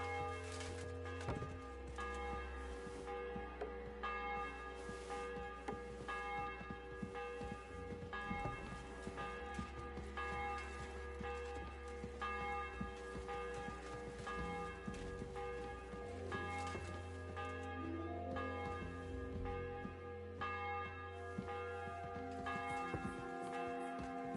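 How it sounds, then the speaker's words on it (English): A church bell tolls repeatedly in a medieval village setting in Kingdom Come Deliverance 2, steady ringing strokes over a low musical drone, sustained and moderately distant for the whole stretch. "The bell's ringing for hands the 5th time."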